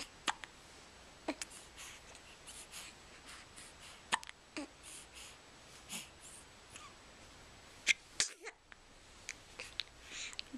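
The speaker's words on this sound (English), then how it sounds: "Still got the hiccups." Baby hiccups, a series of small sharp catches spaced irregularly over ten seconds, soft and close against quiet room noise, with a faint breathy sound near the end.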